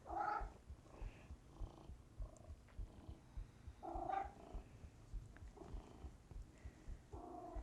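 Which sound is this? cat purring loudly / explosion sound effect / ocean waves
cat purring loudly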